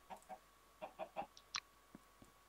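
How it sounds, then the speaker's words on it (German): Chickens in the video game Minecraft cluck in short, clipped bursts, a handful of separate calls with brief gaps between them, close and clear with no talk over them. "Ich habe nur gesagt, dass ich Hühnchen farmen werde."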